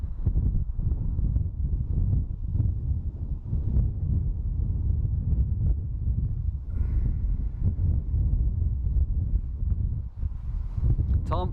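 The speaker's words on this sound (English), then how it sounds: "Bit breezy, slight bit of a crosswind." Breezy crosswind at Dublin Airport buffeting the microphone, a loud, continuous low rumble of gusts throughout, with a faint higher tone drifting in the distance partway through.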